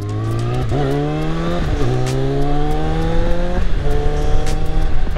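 A loud carburetted Suzuki 650 Bandit motorcycle engine revs up and down repeatedly, its pitch climbing then dropping in several sweeps, close by with a rough, throaty tone.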